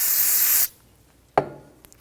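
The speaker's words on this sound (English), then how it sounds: "I'm going to use some spray solvent on the rag." Spray can of solvent sprayed onto a rag during engine work, one close, loud hiss about half a second long, then a soft click and faint rustle.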